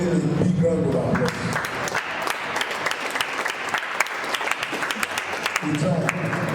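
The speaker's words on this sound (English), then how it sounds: "Please give him a big round of applause." A crowd claps at an old students' association get-together, a steady wash of dense applause with sharper individual claps standing out. Voices can be heard faintly at the start and end.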